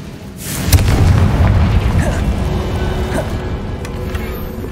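A Confringo fire spell explodes in Hogwarts Legacy gameplay, a loud booming blast with a rumbling tail that fades slowly under game ambience.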